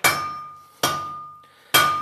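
A hammer strikes metal three times at a steady pace, each a sharp, ringing, close clang that slowly decays before the next blow.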